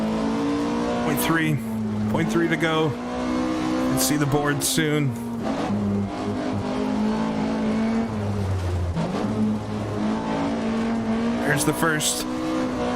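Rally car in Richard Burns Rally on the RAC Rally stages, engine droning and revving steadily through gear changes with brief tyre and gravel bursts, while a co-driver voice and a commentator talk over it.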